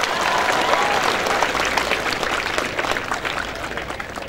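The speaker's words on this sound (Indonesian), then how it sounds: "Beri tepuk tangan untuk mereka." Audience at a university student orientation applauding senior students, sustained loud clapping from a large crowd that stays dense throughout and fades slightly toward the end.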